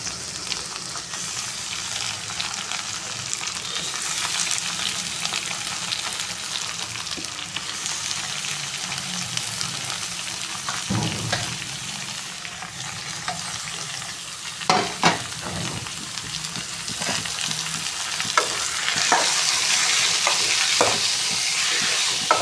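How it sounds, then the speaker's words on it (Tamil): Tomatoes frying in hot oil in a home kitchen pan, a steady loud sizzle with occasional stirring scrapes, no voices over it. "சரி நம்ம தக்காளி வந்து இப்போ போட்டுக்கலாம்"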